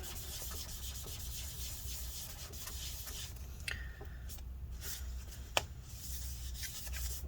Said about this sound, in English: Put a little isopropyl rubbing alcohol in there, and then just wipe off anywhere that you see the sticky residue